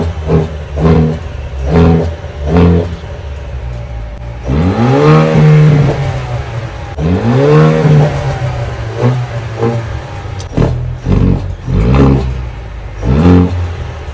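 A Haval H6 GT in race mode revs repeatedly from close by, with short sharp blips followed by two longer rising-and-falling revs, then more quick blips, loud and without talk.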